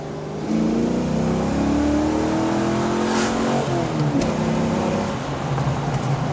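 A 1993 Ford Mustang pulls hard in second gear, its engine note climbing steadily and staying loud and close for several seconds with no talking.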